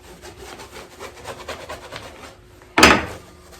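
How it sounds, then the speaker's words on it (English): Wax rubbed along a boot zipper, a soft, steady scraping rasp for about two and a half seconds, then a pause and one louder, short scrape near the end. "I take this and I wax the zipper."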